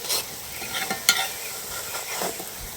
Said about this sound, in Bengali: এইভাবে করে সবগুলো ভেজে নেব।